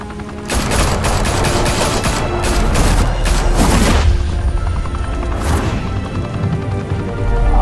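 Heavy gunfire erupts in Batman: The Telltale Series, a dense, loud fusillade of rapid shots with crashing impacts running steadily for several seconds, then thinning toward the end.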